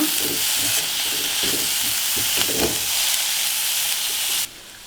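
A fenugreek and egg dish sizzles steadily in a pan as it is stirred after coriander goes in, with a constant hissing fry and soft scraping strokes underneath, close and loud, cutting off abruptly near the end.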